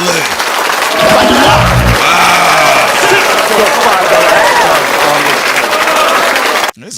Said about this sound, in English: Let's give it a round of applause to LA.